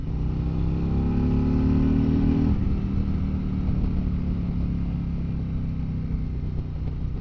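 A Harley-Davidson Road King engine pulls steadily while riding, its pitch climbing as it revs up, then easing to a lower, smooth drone with road and wind noise.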